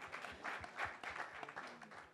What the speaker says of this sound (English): So a big round of applause for Harjeet ji.